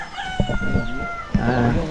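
A Rhode Island rooster crows loudly up close, one long cock-a-doodle-doo call stretching across the moment, with faint clucking around it.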